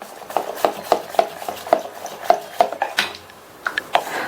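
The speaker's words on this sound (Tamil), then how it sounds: "மாவு நல்லா மிக்ஸ் பண்ணிக்கலாம்" A spoon scrapes and clinks around a mixing bowl of fermented idli batter, a steady series of close knocks and wet swishes with a brief pause near the end.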